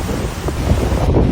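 High storm-surge ocean waves and surf pound the shore at Rodanthe during Hurricane Erin, a loud, close roar of crashing water with heavy wind buffeting the microphone.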